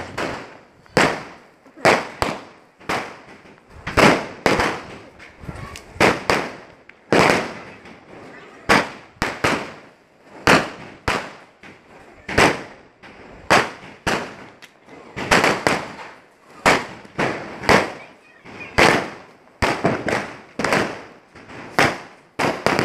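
Firecrackers burst again and again during a lamp-lighting event for unity, with sharp cracking pops that come in quick, irregular clusters and at times overlap faint voices.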